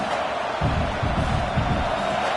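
Continuous crowd roar fills a college football stadium, a broad, steady wash of cheering voices with a few louder swells, sustained throughout and dense.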